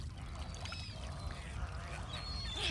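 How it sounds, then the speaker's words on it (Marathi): Several birds call and chirp faintly over a steady low rumble of water or wind, with occasional brief, scattered cries rising above the noise. "पक्षी बघा केवढे आले"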